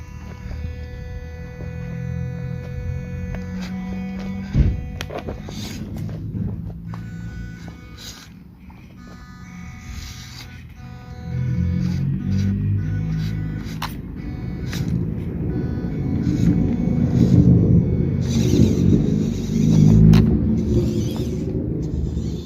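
A WPL C-Series RC car fitted with an MN 260 motor drives slowly, giving a steady electric whine and buzz with low rumbling, growing louder and rougher in the second half as it moves over the ground.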